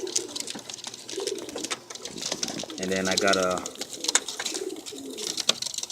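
Pigeons coo softly in a loft, including young birds and a recessive red, the low burbling calls rising under close, steady talk from a man looking them over.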